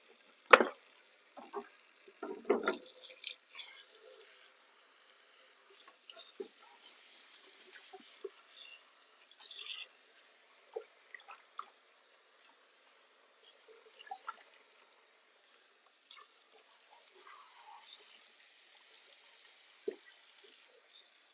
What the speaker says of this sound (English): while the sink was filling